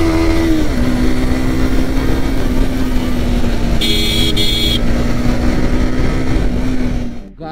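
Yamaha MT15 motorcycle engine running steadily while riding on the road, a sustained loud drone with a brief high tone like a horn partway through, fading near the end.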